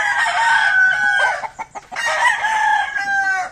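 A Sweater breed gamefowl rooster in a backyard coop crows loudly twice, each long drawn-out call close by, with short clucks between them.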